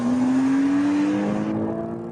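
A 2008 Porsche Cayman engine roars steadily at high revs near 7,000 rpm, its pitch climbing slowly as it accelerates hard at full throttle, then dropping off briefly at the end.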